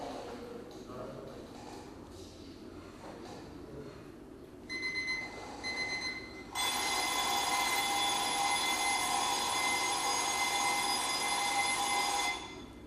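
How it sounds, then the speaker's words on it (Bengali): An old analog telephone rings with a loud, steady electromechanical bell tone, preceded by a brief shorter burst, sustained for about six seconds over faint background noise. "এটা পূর্বে অ্যানালগ টেলিফোনের রিংটোন ছিল"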